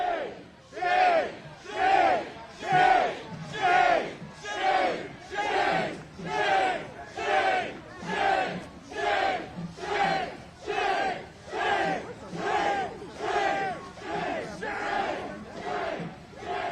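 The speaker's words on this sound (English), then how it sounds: "now you're hearing the chants of shame, shame, shame" A large protest crowd in Minnesota chants in steady unison, each loud two-syllable shout repeating about once per second in a regular rhythm for the whole stretch, many voices blending together outdoors.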